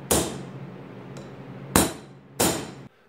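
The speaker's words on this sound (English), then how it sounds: "Now I'm going to center punch the area I'm going to start drilling." A hammer drives a center punch into steel before drilling at a knife-forging bench, with three sharp metallic strikes, one faint and two louder, each ringing briefly before fading.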